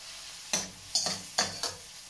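Beef browning in a hot stir-fry pan, with a steady sizzle under several loud stirring scrapes that come in a quick irregular rhythm, close and clear.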